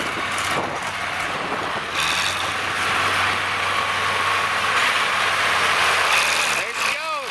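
A heavy old Farmall 460 tractor engine rumbles and sputters to life after being pulled to start, settling into a steady, loud idle with mechanical clatter close by.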